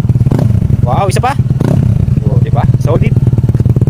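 A Honda Click 160 scooter idles with a loud, throaty, pulsing burble from a full-system aftermarket exhaust with the silencer removed, close by, while someone talks over it.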